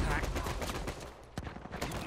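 Dense gunfire from several shooters in an Uncharted 4 multiplayer match, a steady barrage of rapid shots throughout with a voice talking over it.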